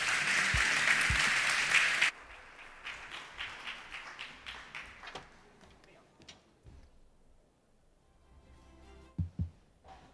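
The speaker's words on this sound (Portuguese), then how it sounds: "para quem eu peço desde já uma fortíssima salva de palmas" An audience at a national conference of the APG association applauds loudly for about two seconds, then the clapping breaks into scattered, fading claps and footsteps-like taps as the room quiets.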